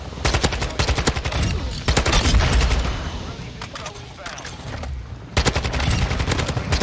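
Rapid automatic fire from a Kastov-74u in Modern Warfare 2, loud close bursts of rattling shots separated by short pauses, with one long sustained string in the middle.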